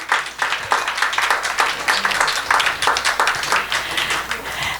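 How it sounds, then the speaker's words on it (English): An audience claps together at a celebration event, a dense, steady patter of many hands that keeps an even level throughout without fading. "Give yourselves a round of applause."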